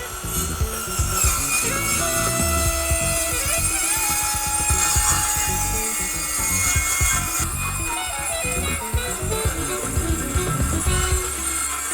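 Circular saw ripping a long straight cut through a board guided by a spare board, a loud sustained whine with rasping wood bite and shifting pitch, running continuously from start to finish.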